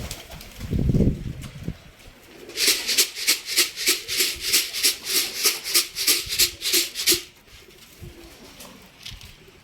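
Pigeons in a flock, with a low coo near the start, then a long run of rapid, rhythmic wing flaps close by, evenly pulsing for several seconds before fading.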